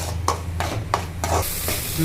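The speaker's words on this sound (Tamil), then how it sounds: "இது பொரியும், பட்டு பட்டு நமக்கு சவுண்டு வரும்." Fish roe fries in a hot pan: close, steady sizzling broken by sharp popping bursts every fraction of a second.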